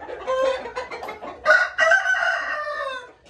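A rooster being conditioned for fighting crows loudly and close, a long strained call preceded by a few short clucks.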